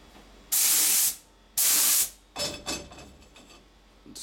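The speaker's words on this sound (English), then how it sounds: "We gotta spray it evenly." An aerosol can sprays coating onto glass and metal sheet in two strong, even hissing bursts, followed by lighter sputtering and rubbing sounds, close and loud.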